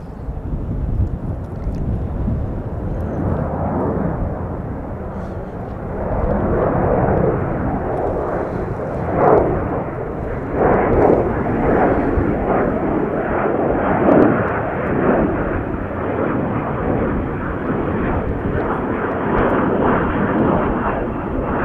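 A Boeing 787 Dreamliner airliner roars steadily at O'Hare International Airport in Chicago, a broad, continuous jet rumble with wind buffeting the microphone, loud and sustained throughout with no break.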